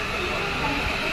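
An electric train pulling out of Mumbai's CST station, a low rumble and rolling hiss from the carriages under a person speaking nearby.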